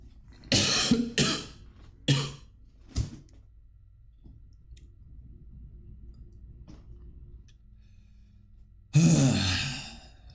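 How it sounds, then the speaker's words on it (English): Four harsh coughs in a row, loud and close, then a long quiet stretch before one final rasping cough or throat-clearing. "The stress is getting in my cough."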